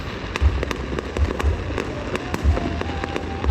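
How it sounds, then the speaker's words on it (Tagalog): Fireworks bursting repeatedly with sharp cracks and deep booms at irregular intervals, over a constant crackling rumble of distant explosions. "Wow! Amazing fireworks!"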